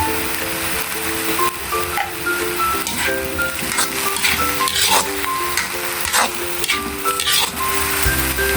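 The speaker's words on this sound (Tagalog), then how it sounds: "Hintayin natin mag-brown ng konti yung ating beef." Ground beef browns in a pan for Filipino-Italian spaghetti, giving a steady close sizzle with occasional scrapes of stirring, over light background music tones.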